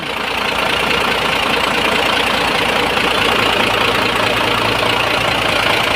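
A steady idle from an inline-six M61 engine runs continuously, a dense low rumble with mechanical clatter, close and fairly loud with no talking.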